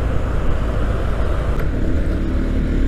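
A KTM Duke 390 BS6 motorcycle rides along with a steady, loud engine and wind roar. No distinct quickshifter gear changes stand out from the continuous drone.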